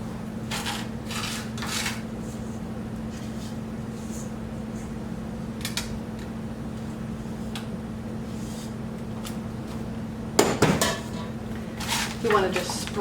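Batter is scraped from a bowl into a prepared baking pan for maple autumn treats, giving soft, intermittent spoon and utensil clinks and rubs against a low steady hum, with a louder clatter near the end.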